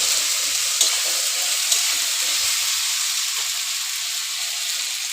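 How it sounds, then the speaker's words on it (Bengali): Ground spice paste being fried with potatoes in a pan, a bright steady sizzle with a couple of sharp spatter pops early on, close and without speech. "এই মশলাটা দিয়ে দিচ্ছি। এবার ভালো করে কষিয়ে নেব মশলাটা"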